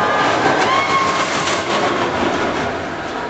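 An amusement park ride train at Parc Astérix rumbles loudly along rails with a continuous roar, faint metallic squeals and rattling, fading slightly toward the end.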